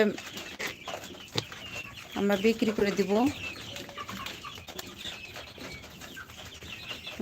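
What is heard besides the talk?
chickens clucking at a poultry farm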